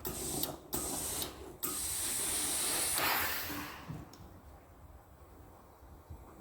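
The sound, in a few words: steam iron pressing a sewing seam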